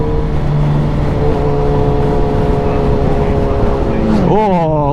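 An S1000RR motorcycle sweeps past near the end, its engine pitch bending quickly as it passes, over the steady droning engine and wind of a bike riding on a scenic road from Oban to Glasgow.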